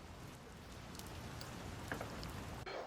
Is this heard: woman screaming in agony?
no